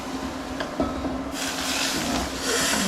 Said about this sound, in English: Wow, you can hear it sizzling.